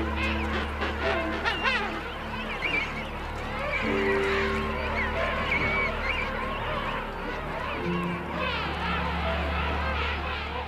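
Dense penguin colony in South Georgia, with continuous loud honking and braying calls from many birds overlapping throughout, a busy chorus near and far.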